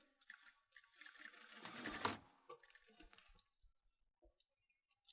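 A sewing machine back-tacking a few stitches along a T-shirt hem, a quiet whirring run that speeds up briefly, then stops, followed by faint scattered clicks.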